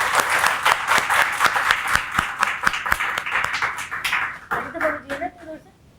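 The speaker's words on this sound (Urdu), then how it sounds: "پلیز ایک دفعہ زور سے تالیاں بجا دیں ان بچوں کے لیے." An audience applauds children after their performance: a burst of dense clapping that thins and fades out, with a voice heard briefly near the end.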